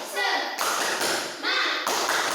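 A group of students does a fast rhythmic spirit clap in a classroom, giving several quick bursts of clapping and tapping mixed with group voices.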